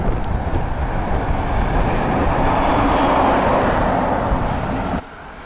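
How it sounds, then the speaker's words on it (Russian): A passenger train travelling slowly and quietly makes a steady low rumble and hum of wheels and carriages throughout, close and even, easing down at the very end. "Вот когда поезд так едет тихо"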